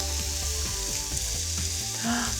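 Asian-style pork and pineapple skewers sizzle steadily in a hot pan, a close, continuous frying hiss with faint crackles throughout.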